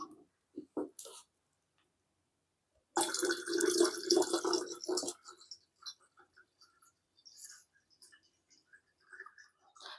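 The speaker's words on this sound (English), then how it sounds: "I'm going to make sure that we add our apple juice so that it's a little bit cooler" Apple juice poured into wine must for red apple hibiscus wine: a short gurgle, then a few seconds of splashing liquid pouring, followed by scattered faint drips and trickles in a quiet room.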